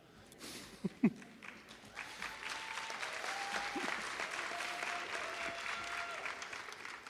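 A graduation crowd at Wilmington Early College High applauds in a dense, sustained wash of clapping that swells and holds, with a few louder thumps at the start and faint voices underneath.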